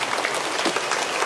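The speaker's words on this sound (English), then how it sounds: "let's all stand up and give a mighty clap for the Lord" A church congregation claps for the Lord in a dense, lively burst of applause from many hands, fairly close and continuous.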